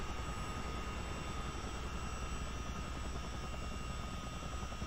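CH-47D Chinook helicopter in Microsoft Flight Simulator gives a continuous rotor and engine roar, steady and fairly quiet with no breaks.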